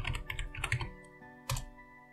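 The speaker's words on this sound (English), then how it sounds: "So to run it, you can just type Veracrypt from your terminal." Quick keystrokes on a computer keyboard as a command is typed into a Linux terminal, a close, crisp run of clicks ending in a firmer single key press, with no talk.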